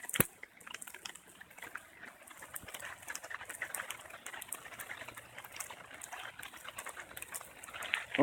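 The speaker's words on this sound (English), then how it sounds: "That has never been flowing like that here." Floodwater pours over a road after heavy rain, a continuous rushing, bubbling wash that holds steady throughout with no talking.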